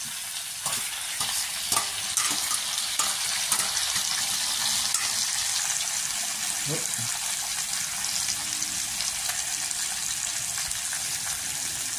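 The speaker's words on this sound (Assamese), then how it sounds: "ফ্ৰাই কৰি ল'লোঁ ধুনীয়াকৈ মাংসটো এতিয়া আমি পিঁয়াজ দিম পিঁয়াজ জলকীয়া দিছোঁ" Pork pieces frying with onion and chillies in a pan, a steady loud sizzle with repeated scraping stirs throughout, a few clatters of the spatula near the start.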